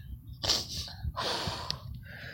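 Dog sniffing along the Eastwood Nature Trail in Roseburg, Oregon: a few short, close, breathy snuffs and snorts in quick succession, with no talking.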